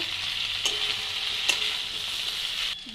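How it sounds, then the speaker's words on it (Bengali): Ginger and radhuni spice paste frying in a pan gives a bright continuous hiss, with a couple of sharp stirring clicks, close and even, before it drops off abruptly near the end; no one talks. "মশলাটা একটু কষিয়ে নেব"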